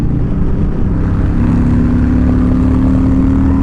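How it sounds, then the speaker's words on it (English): Harley-Davidson Low Rider S with the 114 engine and an S&S exhaust, a loud, steady low engine rumble heard up close throughout, with a rising harmonic tone partway through as the throttle comes on. "This is a special noise, there's no doubt about it, especially with this S&S pipe on here."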